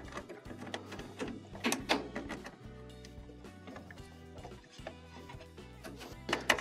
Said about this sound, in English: use your pliers to reattach every hose clamp